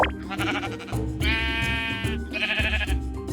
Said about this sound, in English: so I decided to bring some sheep over to my base